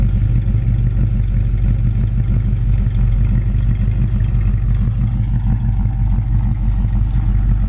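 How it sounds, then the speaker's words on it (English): A 1972 Chevy Nova SS engine idles steadily with a deep dual-exhaust rumble, heard up close and continuous with a slight lumpy pulse and no voices. "It's got a nice rumble to it."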